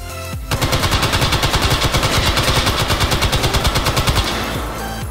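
An M60 machine gun fires in the H3VR virtual reality game, one long sustained burst of rapid, evenly spaced loud shots lasting about four seconds, then a short fading tail.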